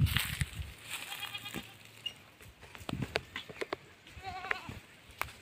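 Several short goat bleats come and go over a few seconds, fairly close, mixed with light rustling and patter; no one speaks.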